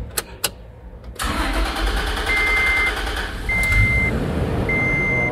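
A car engine is started during a fuel pump check. After a couple of sharp clicks, the starter cranks and the motor catches into a steady, close idle, with short electronic beeps repeating over the running engine.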